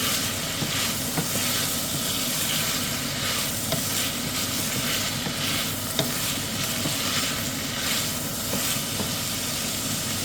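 Continuous loud sizzling of garlic in a hot pan, with faint scraping and clicking as it is stirred and moved around.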